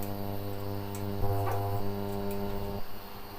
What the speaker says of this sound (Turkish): Geri vantilatörü açtık.